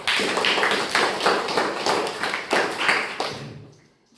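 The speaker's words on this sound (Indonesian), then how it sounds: "Tepuk tangan buat kelompok 1," A classroom of students applauds the presenting groups, a brisk burst of clapping from many hands in the room that swells in waves, then stops abruptly.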